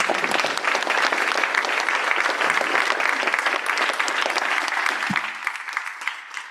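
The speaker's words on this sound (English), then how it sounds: "Let's give him a warm round of applause." An audience at a collegiate wellness lecture series in Louisville applauds to welcome an introduced doctor, a loud, dense round of clapping that holds steady and then thins out into scattered claps.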